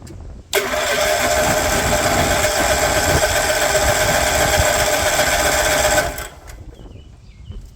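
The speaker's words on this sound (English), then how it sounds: "if it is going to fire, it's going to have to crank for a minute to work that fuel up" A 36-year-old garden tractor engine cranks steadily for about five and a half seconds with a loud, continuous whirring churn. It cuts off abruptly without firing, leaving quiet background noise.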